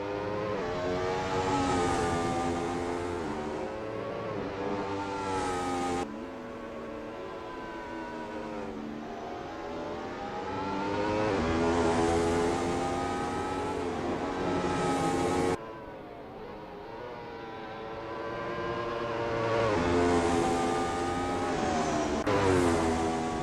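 Race cars warm up at Circuito Ricardo Tormo in Valencia, their engines revving and shifting through rising and falling gear sweeps, loud and continuous, with abrupt cuts between passes.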